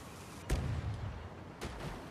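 A gunshot strikes a pumpkin in Storage Hunter Simulator: one sharp broadband crack, then a second fainter shot about a second later, both over low ambient rumble, with no talk.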